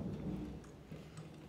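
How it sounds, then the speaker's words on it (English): Thunder rumbles low and continuous through a rainy storm outdoors, a steady heavy roll with faint rain patter on top. "Did y'all hear that? It's thundering."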